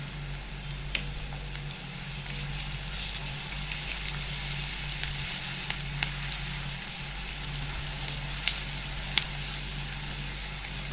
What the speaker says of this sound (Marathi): आता आपला कांदा भाजत आलेला आहे, आपण आलं लसूण पेस्ट टाकणार आहे